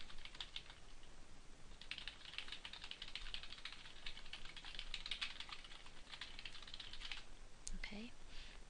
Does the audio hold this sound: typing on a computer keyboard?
yes